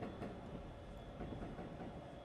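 A Yamanote Line train in the game Densha de Go rolls along steadily with a low rumble and faint rhythmic wheel clatter, quiet and continuous with a thin high tone above.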